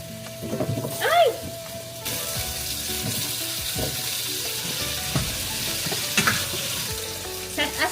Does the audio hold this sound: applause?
no